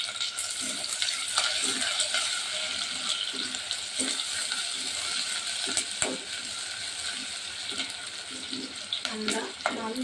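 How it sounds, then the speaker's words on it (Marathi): Pulao ingredients with hing and onion frying in a pan, a close steady sizzle broken by repeated scraping and clinking stir strokes, no voices present. "परतून घेते."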